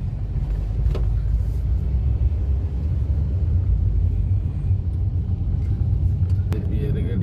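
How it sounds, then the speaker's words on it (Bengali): A steady low engine rumble of a passing car fills the whole stretch, loud and close, with no voices over it. "এদিকে গাড়ি চলে যায়।"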